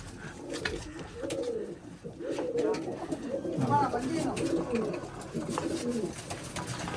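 Several large pigeons in a fancier's loft coo in overlapping throaty bursts near at hand, the rolling calls continuing throughout while people talk nearby.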